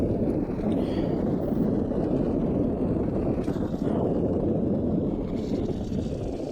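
A Honda Click 150 scooter is ridden at speed, mostly heard as a continuous roar of wind buffeting the microphone with a low engine drone underneath. It stays loud and steady throughout, with no talking.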